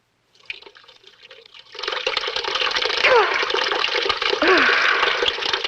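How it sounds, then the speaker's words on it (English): Water from a tap splashes and gurgles, first softly and then in a louder steady rush, in a bathroom scene from the 1960 British thriller Too Hot to Handle. "I think I better get some water on my face"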